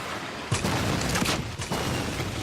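Gunfire in the video game Fortnite: several sharp shots crack in quick succession over a continuous noisy game backdrop, with no talking.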